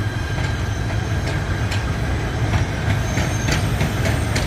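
A PATH train with a four-car and two-car set rolls through Harrison station, a steady broadband rumble with faint rhythmic wheel clicks throughout, fairly close and continuous, no voices.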